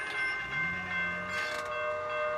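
A light rail train rumbles by with a low sustained tonal hum and a brief rising horn-like tone, steady and moderately near.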